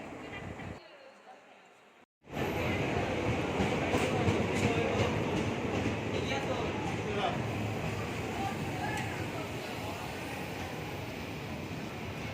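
A train arriving at a station rumbles steadily and loudly after a brief quiet dip, its heavy mechanical roar filling the scene with some talk mixed in.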